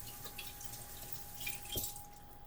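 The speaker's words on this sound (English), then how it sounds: "So wash your hands real quick. Just rinsing them," Tap water runs into a sink as hands are rinsed, a faint, steady trickle with a few soft splashes and drips, heard alone at low level.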